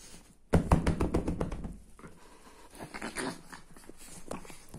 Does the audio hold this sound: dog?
yes